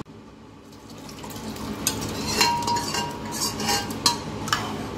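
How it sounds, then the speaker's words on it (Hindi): A spoon stirs cooked dal into sambar vegetables and chopped onion in a pot, giving a steady wet churn with clinks against the metal rim, no voices. "अब अपनी कुक करी हुई दाल भी इसमें मिला देंगे"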